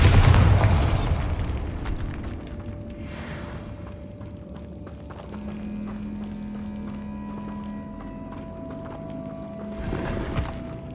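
A Bombarda spell explosion in Hogwarts Legacy opens with a loud deep blast that rumbles and fades over a couple of seconds, followed by quiet ambient tones and a second burst near the end.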